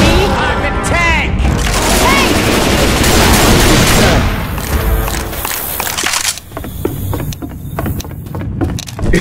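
Rapid gunfire in the video game Left 4 Dead 2 as players shoot at the Tank, dense overlapping bursts and booms, loud and close, with people talking over the shooting.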